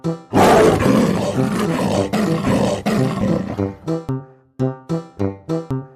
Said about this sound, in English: Correct! It's a hippopotamus.